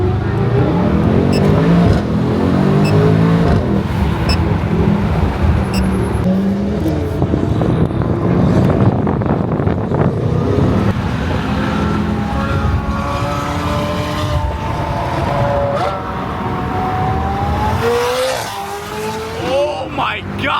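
A loud car roars past on an Arizona street, its engine noise dense and sustained for about twenty seconds with rising revs and a brief tire squeal near the end, while a person exclaims over it.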